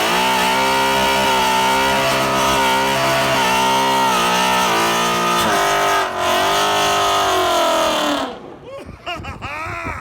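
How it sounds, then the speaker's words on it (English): A twin-turbo 2019 Ford Mustang GT with Corsa headers, Corsa mid-pipe and a Corsa Extreme active exhaust revs loudly and close up, a deep rumble rising and falling in repeated pulls before cutting off near the end. "The coolest thing is the exhaust,"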